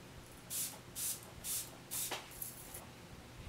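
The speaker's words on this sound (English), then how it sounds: "I'm going to spray it with a little Fix Plus." Five quick hissing bursts of a makeup setting spray onto a brush, in an even rhythm, close and fairly soft, followed by quiet.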